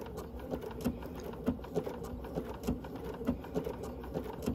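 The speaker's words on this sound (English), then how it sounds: "We've got the machine also set at needle down, which is useful. And we're gonna start just a couple stitches here." A sewing machine stitches a Honey Bee appliqué block from a 1930s sampler quilt. Its needle taps out a steady, muted mechanical rhythm of quick thumps close by.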